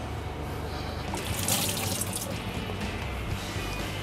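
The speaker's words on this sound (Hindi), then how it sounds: "ये हमने थोड़ा पानी भी ऐड कर दिया इसमें" Water pours in a continuous splashing stream into a pot of methi dal, a close, steady gush that swells briefly in the middle, with no talk.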